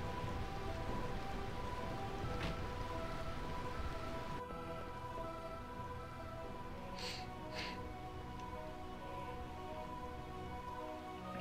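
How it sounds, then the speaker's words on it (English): Steady rain falls in Final Fantasy IX, a constant wash of downpour with faint, brief chimes drifting over it and no voices. "I can't stand all this rain"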